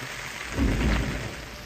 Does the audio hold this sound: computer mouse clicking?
no